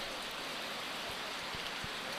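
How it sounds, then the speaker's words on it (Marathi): Steady rain falling during a monsoon cricket match, a dense even hiss with a few soft thuds underneath, continuous and close. "पावसाळ्यात खूप सुंदर असा पाऊस पडत आहे."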